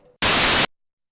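Harsh, hissing white noise from the noise source of a Eurorack modular synthesizer bursts in loud and flat for roughly half a second, then stops dead, with faint murmuring just before it.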